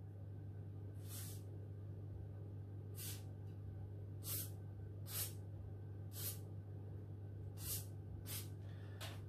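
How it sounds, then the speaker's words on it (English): WD-40 sprayed onto the hinges of a Firebox stove in short bursts, about eight separate sharp aerosol hisses spread evenly over a steady low hum, close and loud with no talking. "give that a good squirt, give that a good soak"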